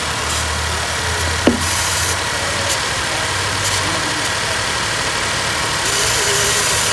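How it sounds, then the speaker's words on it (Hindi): A car engine idles steadily with the bonnet raised, a continuous low rumble and mid-range hum heard up close, with a single sharp click near the start and no talking. "गाड़ी हमारी चालू है।"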